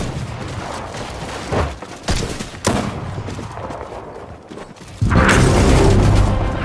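Shotgun blasts in a video game firefight, several loud booming shots spaced irregularly, with a heavier sustained burst of noise near the end.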